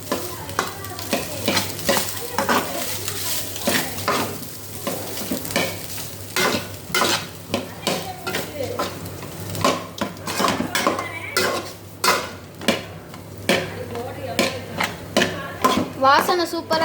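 A spoon or spatula stirs pepper rice around a metal pan, scraping and clinking in irregular bursts over a soft sizzle, close and fairly loud throughout.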